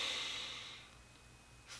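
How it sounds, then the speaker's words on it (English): A single long, breathy inhale, close and fairly quiet, fading out, with a faint rustle at the end. "Take a deep breath."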